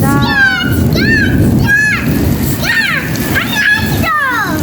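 Heavy unseasonal rain with storm winds at iftar time, a loud constant wash of falling water, with a voice talking over it in several short phrases.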